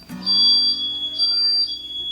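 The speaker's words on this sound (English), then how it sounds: "This is the first time the fire alarm has ever gone off in a video." A household smoke alarm sounds indoors, repeating shrill high-pitched chirps in a steady rhythm, loud and close, with a person's voice briefly audible beneath it.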